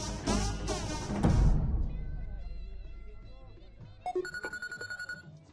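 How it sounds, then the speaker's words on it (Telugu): A telephone in a comedy scene rings with a repeating electronic pulse near the end, after a loud voice and rustling at the start, with steady evenly spaced rings heard clearly. "జ్యోతిలక్ష్మికి ఫోన్ చేస్తా"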